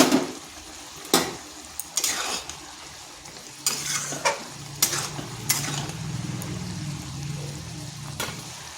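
Leftover bora fritters go into a pan of simmering palong shak (spinach) curry: a few scattered clinks and stirring knocks ride over a low, steady bubbling sizzle, close by, with no talk.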